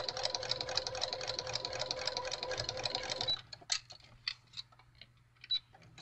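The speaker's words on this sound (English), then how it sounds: "Just let me get this sewed here so I can show you." A sewing machine runs steadily while sewing spring fabric coasters, a close, continuous buzzing whir lasting about three seconds before it stops, followed by a few scattered clicks and taps.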